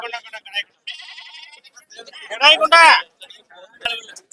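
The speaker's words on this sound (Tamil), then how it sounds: "இங்க வந்து ஆடுகள் குட்டிகள் கடாய்கள் எல்லாமே வரும்" Goats bleat at the Kunnathur goat market on a rainy day, one strained bleat rising out of nearby chatter while several people talk throughout.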